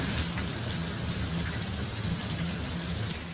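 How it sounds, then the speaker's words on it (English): Heavy rain pours down in a dense, unbroken roar, loud and constant throughout with no pauses or voices. "it just keeps getting harder and harder and harder"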